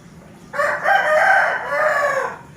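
A pet chicken crows loudly and close by, one drawn-out call with a hitch in the middle, and no other sound around it.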